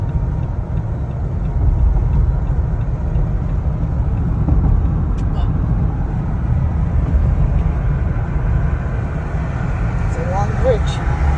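A car drives across a long bridge in Biloxi. The steady, loud road rumble and tire drone hold without a break from start to finish.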